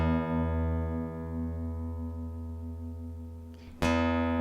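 Sustained low E reference tone from the Fender.com online guitar tuner, a steady harmonic-rich pitch, joined near the end by a sharp plucked guitar string ringing out.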